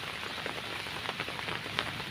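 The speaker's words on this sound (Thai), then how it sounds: "เพราะมันฝนตกอ่ะ" Steady rain patters on a surface, a dense even hiss with occasional louder drops, no voices.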